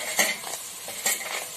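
Fried lentil dumplings (bori) stirred into boiling water in a pot produce two short bursts of spoon scraping and clinking against bubbling liquid, close by and without speech.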